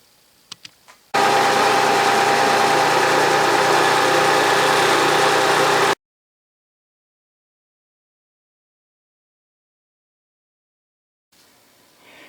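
Milling machine running steadily while cutting a dovetail undercut, a loud sustained whir for about five seconds that stops abruptly, followed by silence and faint shop noise.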